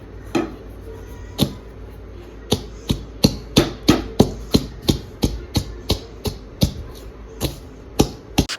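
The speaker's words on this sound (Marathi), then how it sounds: "ते तळल्यामुळं ना शेंगदाणे असे कडक झाले होते छान त्यामुळे ते छान कुटल्या" Fried peanuts being pounded in a kadai for Lambot-style Solapur peanut chutney, a steady series of sharp, close thuds, about two per second with short gaps, with no talk.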